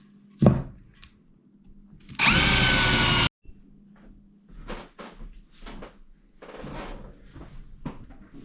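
Power drill boring into wet wood joists during a sewer repair, one loud sustained burst of about a second set among quieter knocks, scrapes and handling noises in a small space.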